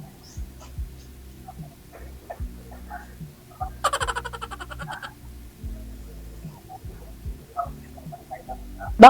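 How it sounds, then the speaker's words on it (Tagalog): A low, steady electrical hum comes from an electric pan just switched on, with faint ticking and clicks. A brief sharp clatter cuts in midway and light background voices occur. "papaandar ko lang yung electric pan"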